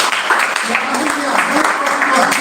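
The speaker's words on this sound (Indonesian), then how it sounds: "Tepuk tangan buat Tuhan Yesus." A church congregation claps together during a worship service, a dense, steady wash of applause lasting a couple of seconds, with voices mixed in.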